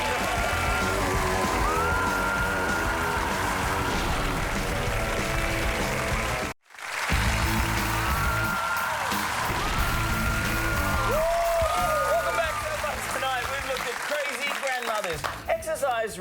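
A television studio audience applauds and whoops with scattered yells, loud and continuous apart from a brief cut in the middle, with voices and music mixed in.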